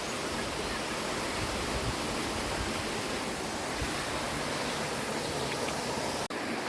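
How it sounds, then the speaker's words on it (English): Argyle Waterfall in Tobago roars as a steady, dense wash of rushing water, close and unbroken throughout, with only a brief dropout near the end. "We're going to go to the waterfall."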